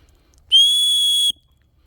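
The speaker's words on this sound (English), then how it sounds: "you do have an emergency whistle as well" An emergency whistle from a Vevor 28-in-1 shovel and hatchet survival set gives a single loud, shrill, steady blast lasting under a second, close up against near silence.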